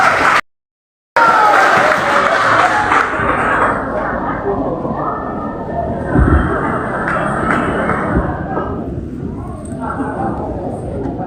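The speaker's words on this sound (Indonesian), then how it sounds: "berikan tepuk tangan" Audience applause at a Pancasila recitation contest in the Sangihe language, a dense, sustained clatter of clapping from a crowd that carries on for several seconds after a brief gap of silence.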